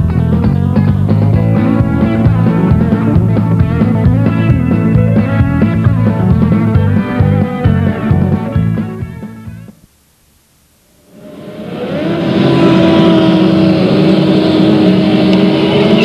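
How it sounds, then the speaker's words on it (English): Modified midget race cars warming up their engines at Delta Speedway before the main event, loud sustained droning roar that briefly drops away and then swells back up strongly. "Modified midgets warming up for their main event."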